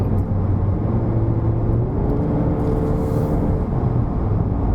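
A 2020 Honda Accord with a 1.5-litre turbo engine climbing the Genting hill road, heard from inside as a steady engine drone and road rumble with a slowly rising tone, close and continuous.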